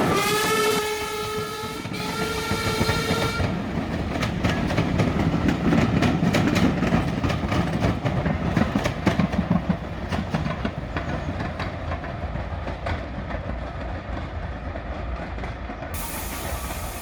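Adams O2 steam locomotive Calbourne, a preserved engine, passes under a road bridge: a loud steam whistle opens, then the rhythmic chuffing and clatter of the train rolling by steadily, fading toward the end.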